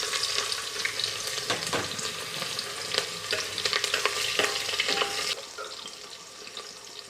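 Onions sizzle in hot oil in a pan, already seasoned with cloves and cardamom, while a utensil stirs them with scraping clatters. The frying is close and steady, then quieter toward the end.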